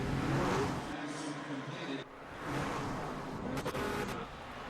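An Acura TLX engine revs up, a rising motor roar that swells and drops back, heard close and fairly loud in a short burst.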